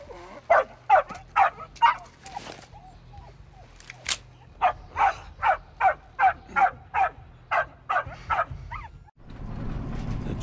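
A dog barks repeatedly in a tense scene from the 2023 war action film Sisu, with quick bursts of barking in two clusters, fairly close and loud, and a low background rumble building toward the end.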